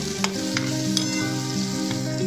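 Aloo paratha potato filling with turmeric stirred and fried in a pan: a loud, close sizzle with repeated spoon scrapes and clicks against the pan, no voices.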